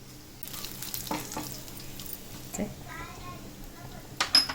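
Cumin and spices fry briefly in oil with a soft, close sizzle, punctuated by scattered clinks and scrapes of a spoon against the pan, louder in the final moments.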